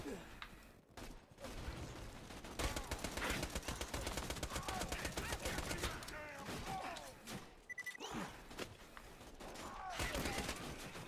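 Gunfire in the video game Borderlands 2, rapid bursts of shots in dense fusillades with short pauses between volleys, mixed with game effects and a voice talking at points.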